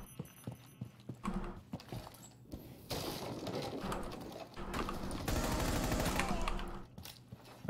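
Gunshots and bursts of fire in a Rainbow Six Siege match, with sharp isolated shots early followed by louder sustained firing and heavy impact noise, close and dominant throughout.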